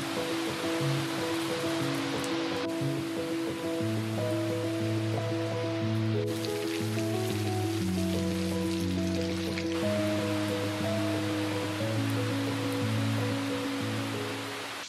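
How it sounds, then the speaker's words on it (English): Steady rain falls outdoors in a continuous close wash, with a faint low tonal hum running underneath and no talking. "It's raining."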